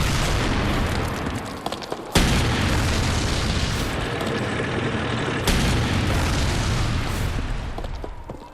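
Tank cannon fire against a German pillbox during the Battle of the Bulge: two heavy booms about three seconds apart stand out over a dense, continuous roar of battle noise, with no talk.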